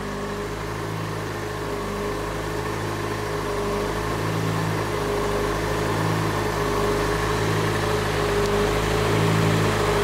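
A Fiat Palio Fire engine with a faulty idle circuit, a close steady mechanical hum with a low rumble and a slight rise in level toward the end, no voices.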